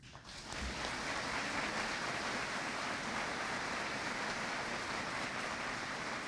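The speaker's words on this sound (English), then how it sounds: "I think you should give us a round of applause for that" Sustained applause from a large audience at a fire department probationary firefighters' swearing-in ceremony, a dense steady clapping wash that starts abruptly and holds loud throughout.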